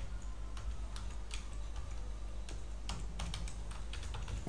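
A password is typed on a computer keyboard, a quiet run of irregular close key clicks with small pauses, no voices.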